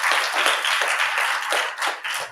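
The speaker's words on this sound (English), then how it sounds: "I think we owe all of our guest speakers a round of applause" Applause from an audience at a gathering for guest speakers, a dense steady patter of many hands clapping close by, continuous through the whole stretch with slight swells.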